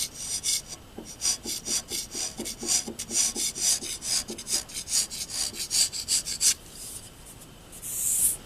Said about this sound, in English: keep the scraper really flat here and keep a lot of the scraper on that base area